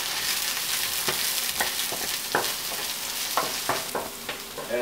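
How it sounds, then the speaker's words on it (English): Mushrooms, red pepper and onion sizzle steadily in a hot pan, a loud continuous hiss broken by occasional sharper crackles and stirring scrapes. "And as it's sizzling and cooking,"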